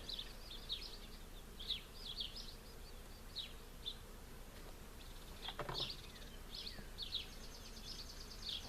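Honeybees buzz around an opened top bar hive during an inspection, a steady outdoor hum with individual bees flying close past in brief louder swells.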